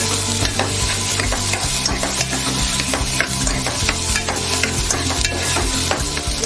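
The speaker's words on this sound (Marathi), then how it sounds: "त्यामध्ये आपण हे बघा 2 चिरलेले छोटे टोमॅटो घालून घेऊया। व्यवस्थित असं परतून घेऊया।" Chopped onion and tomatoes sauté in a pan over low heat for Maharashtrian toor dal, with a close, busy sizzle and repeated scraping stirs of a utensil running throughout.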